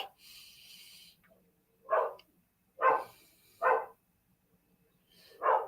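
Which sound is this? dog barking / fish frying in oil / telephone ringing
dog barking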